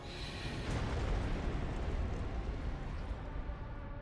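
A helicopter blows up in the mech combat game Armored Core VI, a sustained loud rumbling explosion that fills the whole stretch with dense low boom and debris noise, no talking over it.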